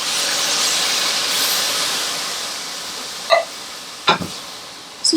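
A pot of canned diced tomatoes, 14.5 ounces with their liquid, steams on the stove, giving a steady broad hiss throughout, with a few brief clinks near the end.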